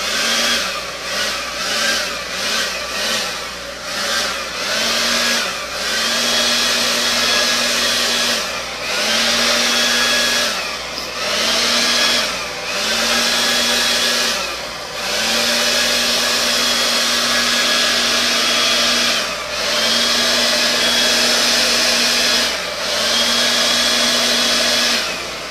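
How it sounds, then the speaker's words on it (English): A hair dryer blows paint across a metallic Dutch pour, a steady close whine that cuts on and off in repeated bursts over nearly half a minute, with no talking. "I'm going to use my hair dryer to help blow this around."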